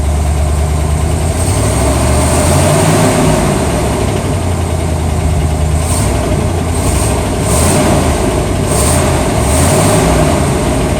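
A 1978 Chevrolet El Camino engine idles steadily and loudly up close, a constant low rumble with no talking.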